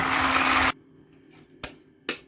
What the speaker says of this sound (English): With my blender, with my whisk ready.